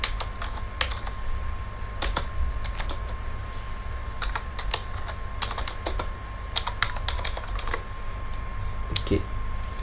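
Rapid, irregular clicking of keys on a computer keyboard while text is entered for a birthday poster in Photoshop, close and clear, with short bursts and pauses over a steady low background hum.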